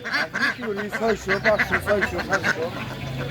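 Ducks quacking at the Nawabganj poultry market, a rapid series of nasal quacks close by, with people talking over the busy market noise.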